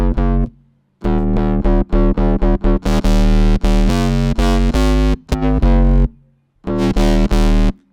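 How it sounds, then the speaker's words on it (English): Distorted synth plays loud, buzzy chopped notes in short bursts and longer sustained chords, separated by abrupt silences, close and dry with no voice. "as soon as you put some distortion on it"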